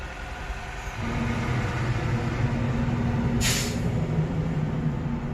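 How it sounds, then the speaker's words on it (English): A large truck rolls past close by, a steady heavy rumble with a low engine drone that builds after the first second and a sharp hiss of air brakes midway. "As a big ass truck passes by"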